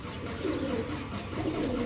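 Pigeons cooing on a rooftop loft where birds are kept for sale, a soft low continuous burble from several birds nearby, with no voices.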